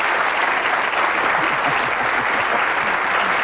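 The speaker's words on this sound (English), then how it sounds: "Give a nice round of applause." Dense, steady applause from a TV game show studio audience, many hands clapping at once without letting up.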